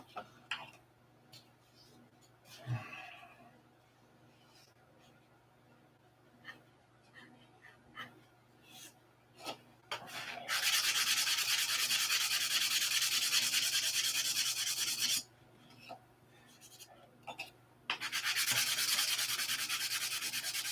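Steady, rasping sanding of balsa wood in long strokes, loud bursts separated by quieter handling noises and faint background sounds.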